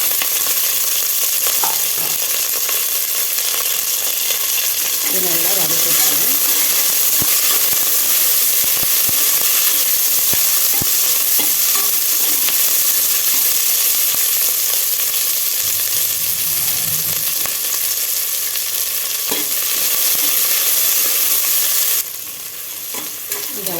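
Curry leaves and chopped shallots sauté in a pan for a one-pot rice and lentil dish, a loud continuous sizzle with occasional stirring scrapes and clinks, close and alone.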